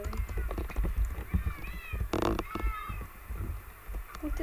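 Cats meow repeatedly in a Minecraft Lucky Blocks game, several short, high mews under and between excited talking voices.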